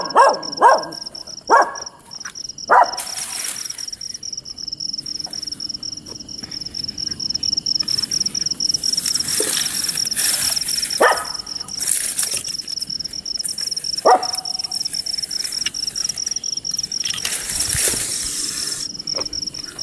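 Dogs bark sharply outside a house at a snake nearby, several loud barks early and scattered barks later over a constant chorus of crickets.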